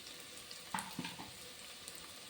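Chopped onions sizzle and fry in a pan for a veggie biryani, giving a low steady hiss broken by a few sharp stirring clatters partway through.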